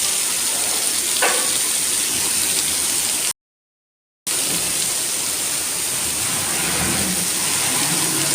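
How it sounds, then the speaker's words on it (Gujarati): Steady heavy rain and water rushing along a road in the Matel area of Morbi make a constant hiss, broken by a brief total dropout in the middle. "આજે વરસાદ સારો ચાલુ થયો છે આજે રસ્તામાં પણ ઘણું બધું પાણી જઈ રહ્યું"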